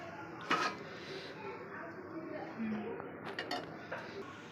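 Tomato kuska being served onto a plate, with light clinks of a spoon against the vessel and plate at close range, a few sharper taps standing out over a low steady background.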